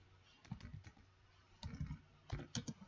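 A computer keyboard clicks faintly as a short command is typed in three quick clusters of keystrokes, with no talk over them.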